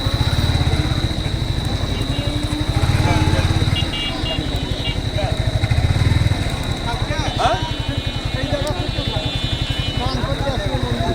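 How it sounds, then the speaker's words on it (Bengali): A motorbike engine putters past at a crowded village fair in Godagari, a rough, pulsing drone close by. Voices and crowd chatter run underneath, and the noise builds and fades as it goes. "বাইক যাচ্ছে তো"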